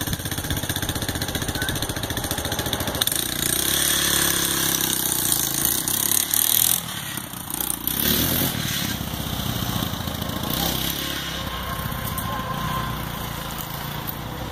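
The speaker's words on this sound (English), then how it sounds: "It's called an LT 230 GE. And it's a shaft driven, it was their utility quad back in the day." A Suzuki LT 230 GE shaft-driven utility quad engine runs steadily, a loud close buzzing drone with a brief dip in revs midway, no talking.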